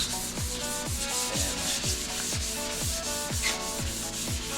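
Rhythmic hand sanding of a Dodge Journey during collision repair, sandpaper on a Scotch-Brite pad rasping back and forth in even strokes roughly every half second, up close and continuous.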